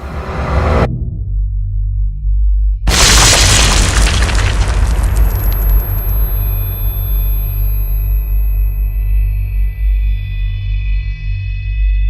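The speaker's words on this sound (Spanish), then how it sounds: "estalló el cuarto reactor de la central, y unos segundos más tarde una segunda explosión hizo volar por los aires la losa del reactor" Huge explosion effect for the Chernobyl nuclear reactor blast: a brief rumble, a moment of silence, then a massive booming burst that decays into a long, distorted roar with lingering high ringing tones.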